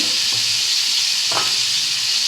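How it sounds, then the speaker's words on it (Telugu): Soaked bitter gourd fries in a pan with a loud, constant sizzling hiss, and a couple of soft stirring scrapes break through the steady crackle. "కొంచెం ఫ్రై చేసుకుందాం."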